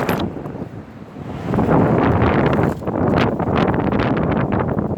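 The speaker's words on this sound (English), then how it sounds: "It's a bit windy today" Steady wind buffeting a microphone, a loud broadband rumble that swells and gusts throughout, with no voices.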